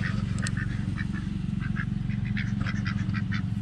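Ducklings kept with hens in a chicken coop quack and peep in soft bursts over a constant low rumble of background noise, several small birds calling close by.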